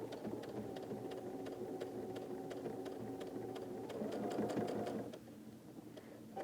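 A sewing machine stitching through a thick layered quilt block, a steady close mechanical whir with a rapid needle clatter that speeds up briefly before slowing and stopping.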